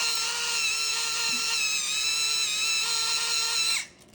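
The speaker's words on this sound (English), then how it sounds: "We have our black pepper that we're gonna grind right in there." Black pepper is ground into a breakfast dish, a steady, even whirring grind held for several seconds before it cuts off abruptly.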